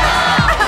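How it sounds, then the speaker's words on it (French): Cartoon audience cheering for the singer, a brief loud crowd roar with whoops, sustained throughout the short burst. "Alors on l'applaudit très fort car ici on l'adore"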